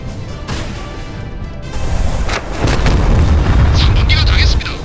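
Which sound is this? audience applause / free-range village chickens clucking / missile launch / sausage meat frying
missile launch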